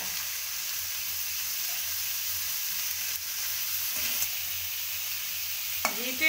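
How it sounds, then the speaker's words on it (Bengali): Sliced tomatoes and capsicum sizzle steadily in hot oil over a low flame, a continuous close frying hiss with a few soft clicks of stirring near the end. "এই টমেটোগুলো দিয়ে দিলাম তেলের উপর"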